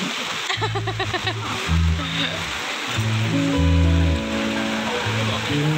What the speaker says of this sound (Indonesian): Hujan lagi, hujan, hujan.